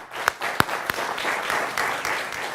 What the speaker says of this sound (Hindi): आप दोनों के लिए जोरदार तालियां